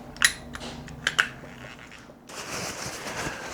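An Abu-Matic 160 spincast fishing reel, being reassembled after cleaning, gives a few sharp metallic clicks close up, followed by a softer, steady mechanical whir.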